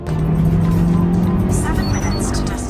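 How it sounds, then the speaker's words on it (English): A car accelerates hard with a loud, close engine roar climbing in pitch, a narrator's voice running over it as the sound fades slightly toward the end. "Ray accelerates quickly to meet his colleague on time."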